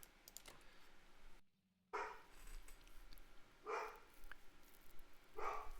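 A pet dog barking in the next room, three separate short barks spaced a couple of seconds apart, fairly distant and faint over quiet keyboard tapping.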